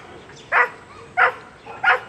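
Dogs at a hill-country homestay bark in three short, loud bursts spaced about evenly apart, the local dogs harrying an outside dog, with quiet background between barks.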